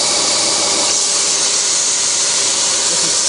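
80 grit sandpaper works a wooden pen box flat with a steady, loud, close rasping hiss that continues unbroken throughout.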